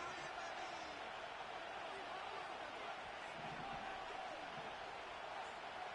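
Stadium crowd roaring steadily in a football video game on a third down late in the game, a dense wash of cheering and murmur with no let-up, under faint commentary.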